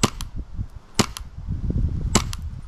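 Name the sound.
airsoft Glock pistol shooting BBs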